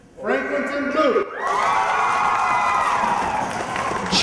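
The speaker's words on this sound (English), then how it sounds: "Cheers were heard all over the Southern University Ag Center arena as students applauded for their fellow classmates" A school crowd of students in the Southern University Ag Center arena breaks into loud, sustained cheering and applause after a first-place winner is announced, with shouts rising over a dense roar that holds steady to the end.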